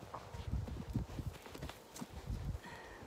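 A horse walking with its rider aboard, hooves clip-clopping in a steady uneven rhythm of close soft thuds on the ground, no talk heard.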